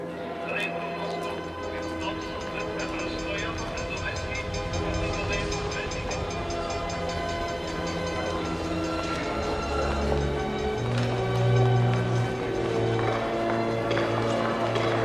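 A Russian elektrichka, an electric commuter train, rolls past with steady rumble and clacking wheels, and a horn tone rises near the end. People talk over the passing train.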